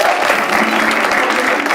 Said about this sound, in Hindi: तालियां इसके लिए।